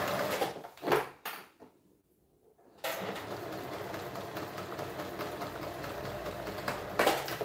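Home sewing machine stitching underwear fabric: a few thumps and a short pause, then a steady mechanical whirring hum runs continuously, fairly close, with a brief louder bump at the end.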